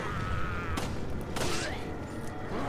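Handgun shots ring out in Resident Evil 4, two or three sharp cracks spaced apart over a constant game backdrop.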